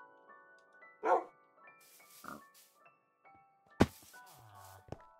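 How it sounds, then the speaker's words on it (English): A dog in the video game Minecraft gives a few short, scattered barks mixed with other soft game sound effects and thumps, with quiet gaps between them. "Apparently I've got a dog now."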